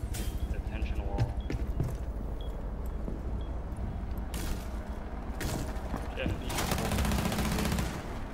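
Gunfire in Rainbow Six Siege, rapid bursts of shots rattling over continuous background noise, with a louder volley near the end and people talking throughout.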